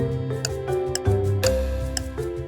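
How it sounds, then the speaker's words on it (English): Quiz timer in an animal trivia game ticks steadily over a bright musical backing, a regular series of crisp clicks running through the short stretch with no talk. "Timer is ticking."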